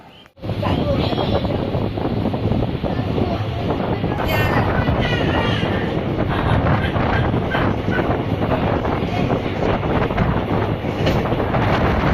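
The Maa Tara Express train heads toward Rampurhat, producing a loud, steady, continuous rumble and rattle throughout, with a brief high squeal partway through.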